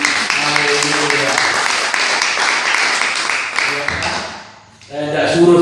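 A church congregation applauding steadily, a dense wash of clapping that holds for about four seconds, dips briefly, then swells again.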